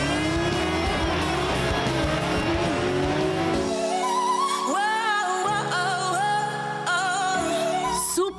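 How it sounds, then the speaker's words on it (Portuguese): A car drifting sideways sounds with a high, straining engine and squealing tires, continuous and loud, with the engine note rising and falling through gear changes. "É preciso se acostumar e depois acertar o carro de lado para fazer o drift."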